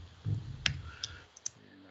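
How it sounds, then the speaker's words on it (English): Several sparse, sharp key clicks on a computer keyboard, close and fairly faint, spaced irregularly over a low background hum, as someone types a web address during a software talk. "Typing is really hard."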